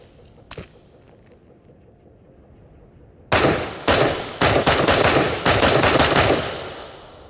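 A gun in the VR game Into the Radius firing, one faint early click followed after a pause by a rapid series of loud, close sharp shots in short bursts, with no talking.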